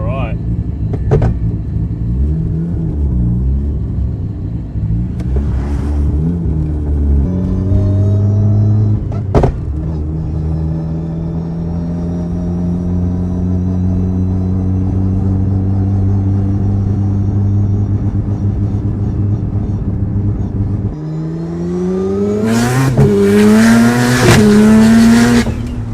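A Mazda RX7 rotary street car with a six-speed HGT sequential gearbox drives with a loud, droning engine note that rises through the gears. A sharp clunk comes partway through, and the revving climbs again to a harsh, roaring burst at the end.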